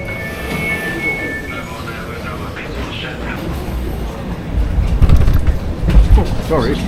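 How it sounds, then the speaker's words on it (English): A London Underground train rumbles in and rolls closer at a station near Whitechapel, its low clatter growing louder toward the end, with station noise and a faint tone early on. "Right, so there's a train coming, but of course it's hidden. Here it comes."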